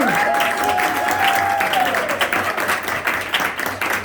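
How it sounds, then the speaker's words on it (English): An audience at a ceremony honoring a 2023 Providence, Rhode Island teacher of the year breaks into sustained applause, with a voice speaking over the clapping early on. "Oh yeah, big round of applause."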